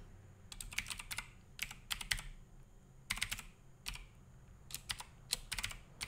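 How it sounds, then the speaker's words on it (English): Bursts of clicky typing on a computer keyboard at a desk, several quick clusters of keystrokes separated by short pauses, close and fairly crisp with no talking. "Not sure why I'm typing in all caps."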